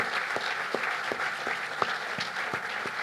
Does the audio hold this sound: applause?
yes